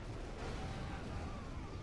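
Super weapons, a Scud Storm and a nuke, detonate in a real-time strategy video game, with a dense, steady roar of blasts and rumbling at low volume throughout.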